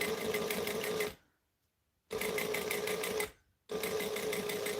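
A sewing machine stitches piping onto fabric in three steady runs, each about a second long and separated by short silent pauses, close and even.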